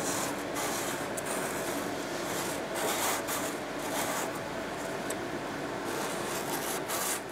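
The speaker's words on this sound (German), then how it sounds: "Mit dem feinsten Schleifpapier schleift Rebecca Riedl das Loch in die passende Form" Steady, continuous rasping of the finest sandpaper shaping a hole in a classic car interior part, close up, with faint ticks and no voices.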